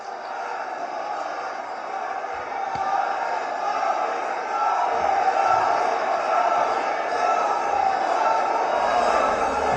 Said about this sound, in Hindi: दोनों हाथ ऊपर करके जोरदार तालियों के साथ स्वागत करें हमारे माननीय प्रधानमंत्री जी का।